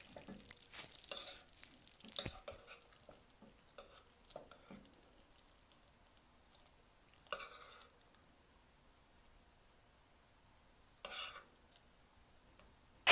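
Macaroni and cheese being stirred in a pot, giving soft sticky squelches and scraping with a few sharper clinks of utensil against metal, loudest early and then trailing off to occasional faint stirs.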